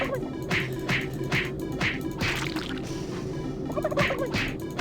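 Turkeys gobble repeatedly in quick bursts in the video game Super Turbo Turkey Puncher 3, several overlapping calls over a steady low background hum, with a louder cluster near the end.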